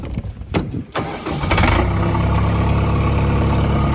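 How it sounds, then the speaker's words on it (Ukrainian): A few clanks and a cranking sputter, then a Horst L404U tractor engine catches and settles into a loud, steady diesel idle close by. "Запускаємо тракторця"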